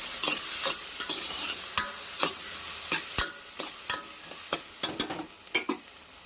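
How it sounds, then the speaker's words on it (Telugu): Prawns fry in a hot pan with a steady loud sizzle, while a spoon stirs them in repeated scraping strokes and sharp knocks against the pan, close up with no talking. "ఈ రొయ్యలు బాగా వేగిన తర్వాత తగినంత పప్పు, ఉప్పు వేద్దాము."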